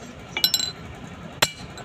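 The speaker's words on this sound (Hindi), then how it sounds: "ऐसे मिस्त्री साहब इसको हमारे फिट कर रहे हैं ठोक ठोक के" A mechanic hammers bearings onto a Tata Yodha pickup truck axle: a few sharp metallic clinks close by, a quick cluster followed by one more strike, over quiet workshop background.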